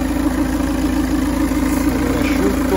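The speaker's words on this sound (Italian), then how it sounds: "motore asciutto, silenzioso, in linea con l'anno e il suo chilometraggio" A 2.0 Blue-HDi diesel engine in a Citroen C4 Grand Picasso automatic idles steadily with the bonnet open, a smooth continuous hum with a low rumble and no revving, quiet and even throughout.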